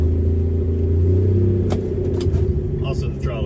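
Turbocharged slant six engine runs with a loud, close, steady low rumble, heard from inside the vehicle while a person talks over it.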